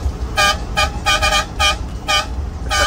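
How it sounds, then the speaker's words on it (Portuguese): A tow truck horn honks in a quick series of short blasts, some doubled, loud and close over a low engine rumble. "Chama na buzina, cara."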